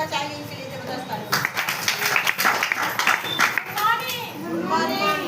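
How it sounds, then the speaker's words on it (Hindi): Children and adults break into applause at a school gathering. The clapping rises suddenly after a quiet second and carries on for several seconds, mixed with children's chatter and voices. "चाहिए इनके लिए जबरदस्त ताली।"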